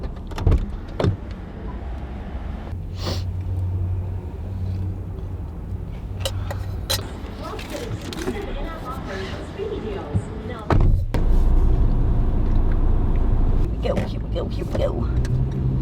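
A Toyota 4Runner on a snowy mountain trip starts off, with a few knocks and clunks and a low rumble that swells into a steady engine drone as it moves away, under a voice speaking.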